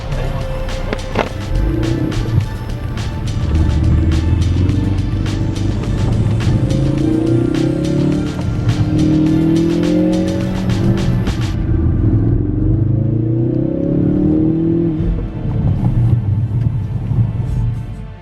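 A Ford Focus RS is driven hard around a timed course, its engine revving up and down through repeated accelerations, loud and close from inside the car, with tyre and road noise throughout.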